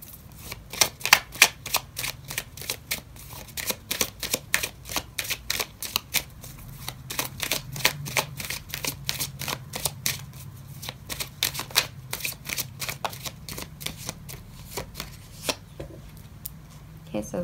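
Tarot cards shuffled by hand in a quick, steady run of crisp riffling flicks, close and clear, ending as a card is drawn from the deck.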